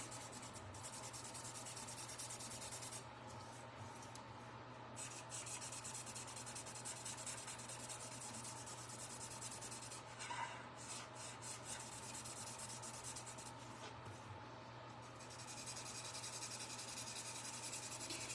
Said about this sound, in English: with this chisel nib, it is actually like a marker, so you can do the back and forth brushing like I'm doing right now